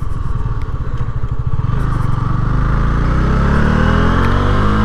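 A Honda CB 300F motorcycle accelerates hard from a standstill up to 60, its engine note climbing steadily in pitch through the gears. The sound is loud and close throughout, with no talking over it.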